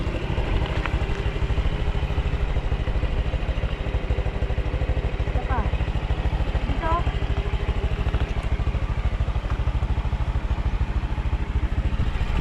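A motorcycle engine runs steadily close by during a road trip, a constant low rhythmic putter under occasional chatter and wind noise.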